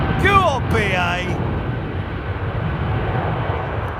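An airliner taxiing out at London Heathrow Airport, with a steady low engine rumble and whine holding throughout, while a voice talks briefly over the start.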